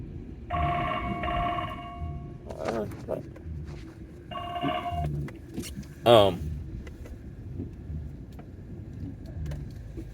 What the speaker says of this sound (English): I just had a phone call.